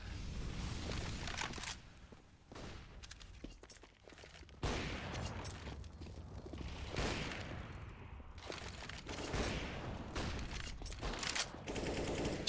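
Gunfire during a Counter-Strike match on the Inferno map, with dense rapid bursts of automatic fire and scattered shots continuing throughout, fairly close and sharp with brief lulls in between.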